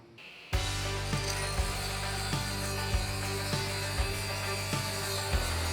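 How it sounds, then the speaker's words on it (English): A table saw cuts old hardwood fed with push blocks: the motor starts abruptly into a loud, steady whine, with a rhythmic series of thumps and catches about every second as the wood binds against the blade. "these old hardwood pieces want to fight the saw a little bit"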